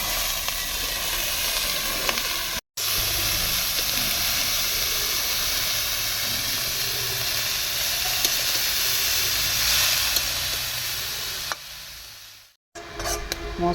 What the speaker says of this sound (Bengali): এখন কেটে রাখা বাঁধাকপিটা দিয়ে দিচ্ছি।